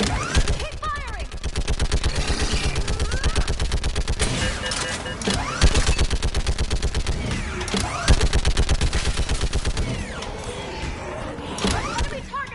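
Sustained automatic gunfire in the video game Mass Effect 3, a dense rapid rattle of rounds in long bursts with brief gaps, loud and close, with voices shouting over the shooting.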